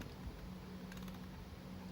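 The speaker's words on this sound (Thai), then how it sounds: "หมุนทุกคลิกนะครับ" Turning the aperture ring on a Yashica Electro rangefinder camera gives a few soft, faint clicks in quick succession in a quiet room.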